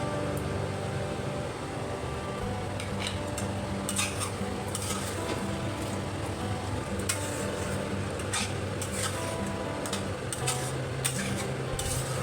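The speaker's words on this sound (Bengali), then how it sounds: "চাল, ডাল, আলু মশলার সাথে ভালো করে কষিয়ে নিতে হবে" Soaked rice, lentils and fried potatoes are stirred with spices in a pot for monsoon khichdi, a spoon scraping and clinking in repeated strokes over a soft sizzle, close by with no voices.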